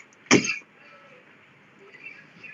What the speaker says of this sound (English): Not my COVID cough, just my normal winter cough.